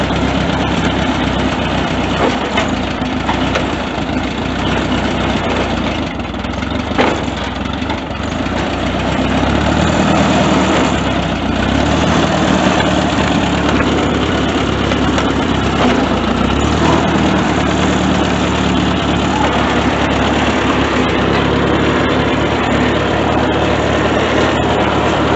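A 1950s Ford Jubilee tractor engine idles loudly and continuously at close range, a steady low rumbling chug with slight fluctuations throughout.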